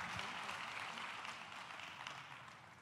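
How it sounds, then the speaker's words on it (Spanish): Congregation at a church worship conference clapping together in a continuous wash of applause, distant and faint, slowly fading over the last second. "Le damos un aplauso al Señor."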